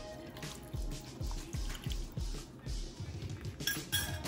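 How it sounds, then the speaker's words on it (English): Water is poured into a slow cooker holding a home-style beef pot roast, giving a close, steady liquid splash with repeated low drips and a few light clinks of the pot. "I'm gonna add just a little bit more water."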